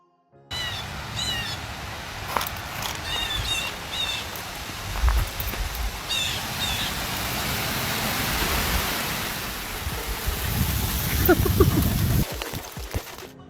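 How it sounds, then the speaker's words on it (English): Steady, even hiss of rain falling across the whole stretch, with a few faint bird chirps and occasional low thumps breaking through. "I've never seen rain fall in such a clear and even line."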